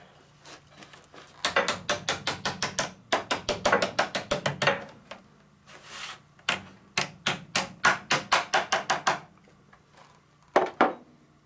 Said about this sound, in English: Probably hammer that out a little bit too